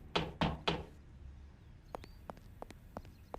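Knocking on a door during a comedic role-play scenario: three heavy, hollow knocks close together, followed by a series of lighter, sharp taps spaced irregularly, all fairly near in a quiet room.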